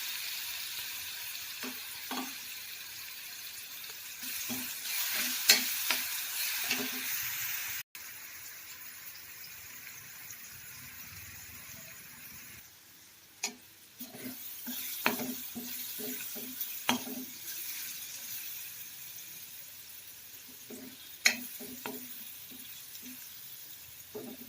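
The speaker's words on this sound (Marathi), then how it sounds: "ग्रीन मिरची आणि लसूण चांगला परतलेला आहे." Green chili and garlic paste frying in a pan, a steady hiss of sizzling oil broken by repeated clinks and scrapes of a spoon stirring, with a brief quieter gap midway.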